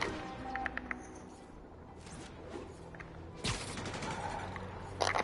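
Video game gunfire crackles in scattered bursts and sharp single shots, with one louder blast near the end, heard up close over a low background bed.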